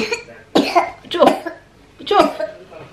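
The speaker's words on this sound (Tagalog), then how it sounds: "Oh, grabing ubo niya" A young child, a girl, coughs three times in harsh bursts, close and fairly loud, with short pauses between, in a home setting.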